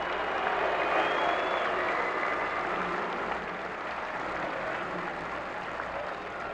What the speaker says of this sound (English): this is the time to applaud the Vancouver Canucks for a great performance